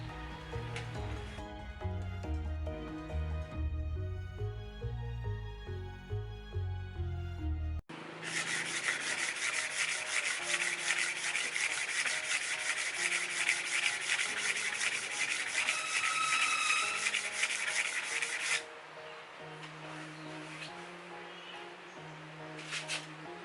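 Wood is hand sanded with 320 grit sandpaper in a long, steady rasping rub that runs through the middle stretch at close range, with music playing before and after the scrubbing.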